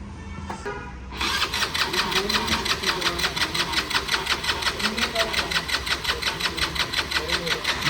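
A Bullet motorcycle engine cranks and runs with a fast, even pulsing rhythm after a short quiet start, loud and close, while people talk over it.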